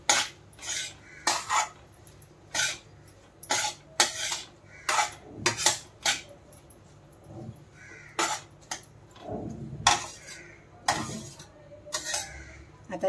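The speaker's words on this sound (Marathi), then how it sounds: "आता चांगल्याला मिक्स करूया" A spoon stirs turmeric into kurma rice vegetables in a pot, giving repeated loud metallic clinks and scrapes in an irregular rhythm, close by, with crows cawing faintly in the background.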